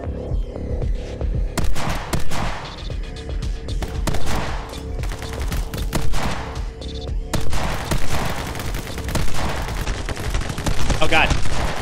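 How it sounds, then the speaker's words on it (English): Sniper rifle shots and gunfire ring out in the side-scrolling shooter game My Friend Pedro, loud repeated bursts over a throbbing game soundtrack, with a brief lull partway through. "I really do enjoy using sniper rifles."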